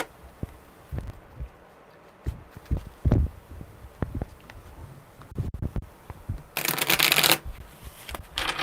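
Tarot cards are handled and shuffled, with scattered taps and riffles followed by a loud, sustained riffle near the end.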